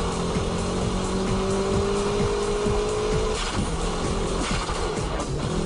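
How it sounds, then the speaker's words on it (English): A car in a high-speed drift with a limited, controlled tail slide and little wheel spin, its engine whining loudly and steadily with rising pitch and shifting revs and a brief burst of tire noise midway. "In high-speed drifts, tail sliding is controlled and limited, so counter-steering work can be minimized."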